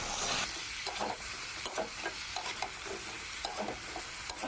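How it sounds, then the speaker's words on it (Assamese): Black taro, rangalau and potatoes stir-fried together in a pan, soft sizzling broken by repeated scraping and tossing strokes of a spatula at an irregular rhythm, close and alone. "এতিয়া আটাইখিনি মিক্স কৰি ভাজি ল'ম।"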